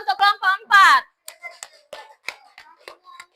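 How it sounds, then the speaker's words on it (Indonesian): Children in a classroom clap in scattered, uneven bursts for a group, after someone speaks briefly at the start. "Tepuk tangan dulu untuk kelompok 4."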